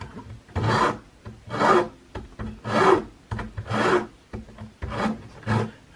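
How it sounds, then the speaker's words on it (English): A junior hacksaw rasps back and forth through a hard bamboo skewer, five or six steady, evenly spaced strokes, close and fairly loud with no talking. "what I'm going to do is just, with the junior hacksaw, pull it back, just listen"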